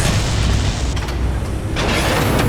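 A radome is destroyed in the Metal Gear Solid video game, giving a loud, sustained rumbling boom with dense low roar and crackling debris throughout, swelling again near the end.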